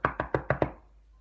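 Five quick, evenly spaced knocks on a metal door, close and sharp, each ringing briefly before the sound stops and a quiet room remains.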